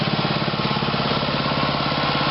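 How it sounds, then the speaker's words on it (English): The Subaru engine on a Ridgid pressure washer idles at close range, a loud, steady, evenly pulsing rumble with no talking over it. "I just started it up again and made some adjustments. I love the way you can idle it."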